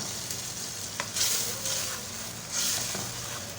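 Yogurt stirred into a sizzling mutton karahi masala of oil with tomato, ginger, garlic and green chilli paste and spices: a steady frying hiss with periodic scraping swells from the spoon, close up and without talk.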